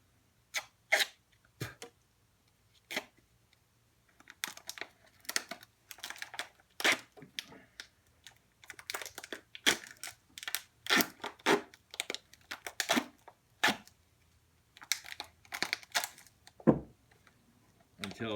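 Sticky tape is pulled and wrapped around a plastic bottle top fitted over a branch for air layering: a series of sharp tearing, crinkling rips in irregular bursts, close up, with brief pauses between pulls.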